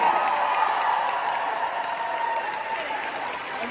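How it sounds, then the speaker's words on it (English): Concert crowd applause at a show in Toronto, a dense and even roar of clapping that holds steady and fades only slightly. "Please give a huge round of applause to Grant"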